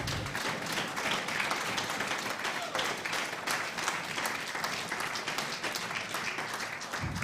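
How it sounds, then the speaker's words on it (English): Audience at the ladies' final of the WEPF World 8 Ball Pool Championships applauds the runner-up, a dense, steady wash of clapping that holds loud and even from start to finish. "Let's have a big cheer for our runner-up"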